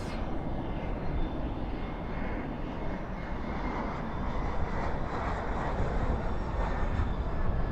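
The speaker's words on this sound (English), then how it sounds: "Spoilers up, reversers out on that Airbus A321." An American Airlines Airbus A321 landing at Dallas/Fort Worth at night with spoilers up and reversers deployed, a loud continuous broadband roar from the thrust reversers that holds steady, with a brief spoken remark over it.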